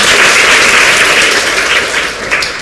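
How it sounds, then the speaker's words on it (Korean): Loud, dense applause from a lecture audience fills the whole stretch at the close of a CEO special lecture for university students, steady and unbroken with no voices over it. "다시 한번 큰 박수 부탁드립니다"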